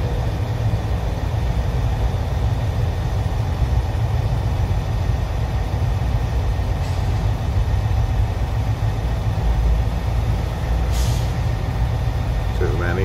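A Freightliner truck idles in slow traffic, a loud, steady low diesel rumble that continues throughout, with brief hisses from air brakes.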